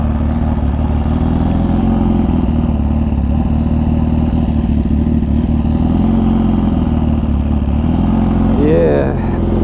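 Kawasaki Ninja H2 motorcycle accelerating hard in second gear, a loud continuous engine roar with wind rush heard close from the rider's position, with a brief voice near the end.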